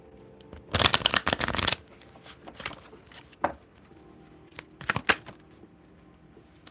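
A Kipper card deck shuffled close by in two dense riffling bursts, followed by a few softer card taps and slides, with no talking.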